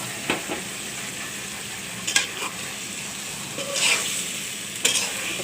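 Boiled taro stolons stirred gently into sizzling masala in a pan, a steady close frying hiss broken by a few soft scrapes and clinks of a spoon against metal, no voices.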